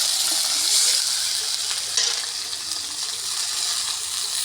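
Water splashed into a hot pan of chopped onions and bay leaf bursts into a loud, bright hiss and sputter that settles into steady close sizzling.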